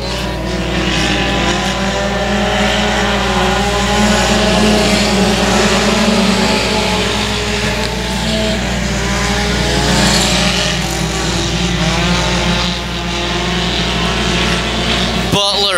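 Race cars lap Boyd Raceway in a loud, continuous roar of engines that rises and falls as they pass, with a race announcer calling the action over the top throughout.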